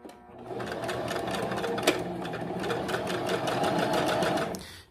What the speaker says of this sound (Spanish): Vamos a probar cómo hace el remate inicial y la costura de inicio.